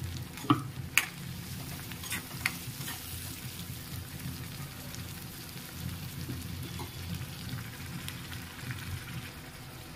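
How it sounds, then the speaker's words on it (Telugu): Masala sizzling and frying in a pan, a steady crackling hiss with occasional sharp clicks of stirring against the pan, fairly close and continuous with no talking. "ఇది వేసేసుకుని ఒకసారి ఫ్రై చేసుకుందాం."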